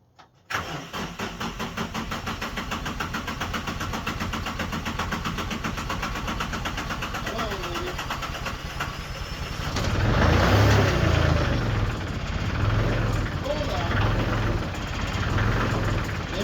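A diesel tractor engine, readied for snowblower duty on a cold winter day, cranks briefly, then settles into a steady rattling idle while warming up. It runs close and continuous, growing a little louder and rougher partway through, with no talking.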